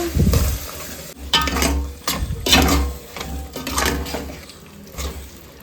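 A spoon scrapes and stirs long beans through cooked masala in a pan, in several irregular sweeping strokes with soft sizzling between them, close and fairly loud with no talking.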